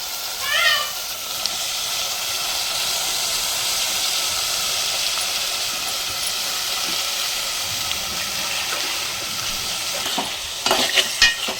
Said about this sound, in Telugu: చిక్కుడుకాయలు ఆయిల్లో మంచిగా మగ్గేటట్టు కలుపుకొని మూత పెట్టుకున్నాము.